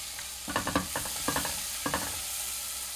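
Crushed garlic and chopped onion for a Thai soup sizzle in a pan, with a steady hiss beneath several quick bursts of spatula scraping and stirring, close and moderately loud.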